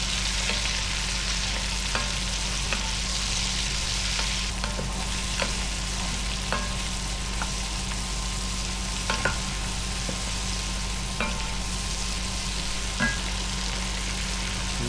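Mushrooms fry in a pot for chicken fricassee, giving a continuous even sizzle with a low steady hum beneath, punctuated by regular light clicks and scrapes as a spoon keeps stirring them around.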